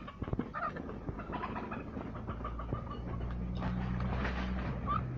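A small hen at a farm near a wooden chalet gives soft, intermittent clucks against a low rumbling background, fairly faint and without speech.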